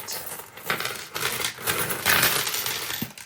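A loose pile of coins pours and clatters out in a continuous metallic jingle, loud and close, with a few bursts of heavier spilling.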